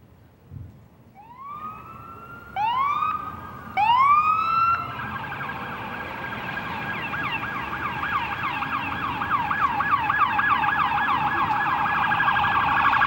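Sirens from arriving police, fire and ambulance vehicles sound at an accident scene. A few rising whoops start in quick succession, then build into a loud, layered, continuous wail that grows closer.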